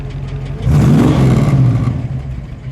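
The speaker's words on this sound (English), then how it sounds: "Steve, give it 1 rev, please." A 1956 Dodge Custom Royal Lancer V8 blipped for one rev, the engine note rising from idle into a loud, close roar and then settling back down.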